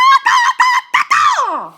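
A man vocally imitates a goose-like bird honk, giving several loud, nasal honks in quick succession followed by a longer drawn-out call that slides downward, close to the listener with no other talk.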